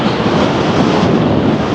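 Strong wind roars and buffets the microphone outdoors during an electric motorbike ride, a continuous loud rush with no breaks.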